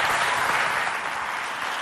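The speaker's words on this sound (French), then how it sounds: "Applaudissez pour eux s'il vous plaît." An audience at a youth competition between a neighbourhood house and a parish youth group applauds the teams, giving steady, dense clapping that fills the hall without pause and eases off slightly toward the end.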